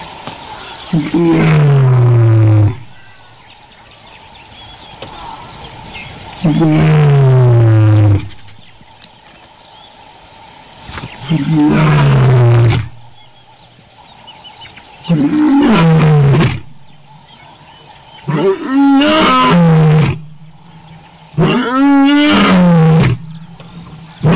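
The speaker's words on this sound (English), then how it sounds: "That's a lion." A lion's roar, played back as a recording to a congregation during a sermon, comes in six long loud bursts separated by pauses, each a deep groaning call, with faint room murmur between them.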